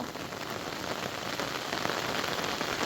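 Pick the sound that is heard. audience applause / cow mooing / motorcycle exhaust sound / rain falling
rain falling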